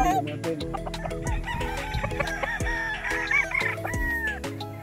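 A red-footed Boston Roundhead broodcock rooster at a gamefowl farm crows in long, rising-and-falling calls with some clucking. The calls are close and clear over steady background sound, and no one speaks.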